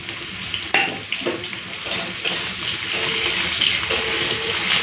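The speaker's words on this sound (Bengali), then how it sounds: "পেঁয়াজটাকে লাল করে ভেজে নিই" Chopped onion frying in hot oil with black cumin seeds, a steady dense sizzle throughout with a few clinks of a spoon stirring in the pan, close and fairly loud, no talk.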